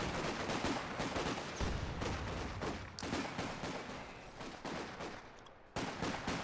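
Machine gun fire in a real-time strategy game battle, dense overlapping bursts of rapid shots and booms that keep going throughout, with brief gaps between volleys.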